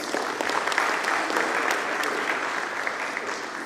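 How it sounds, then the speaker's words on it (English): Steady applause from an audience, a dense wash of clapping that holds at an even level for a few seconds. "Before you go, Saurabh, can we have a round of applause, please?"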